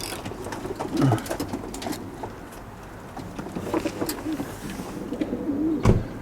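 Young racing pigeons of Fenkul, Verbart, Janssen and cross breeds coo in transport baskets, a soft steady chorus of low burbling calls with a few louder nearby coos over faint background rumble.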